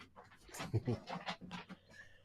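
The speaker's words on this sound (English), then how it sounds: "As you can hear Odie doing zoomies." A happy dog tears around the room doing zoomies, panting and whimpering close by in a short, excited burst with a couple of louder yips in the middle.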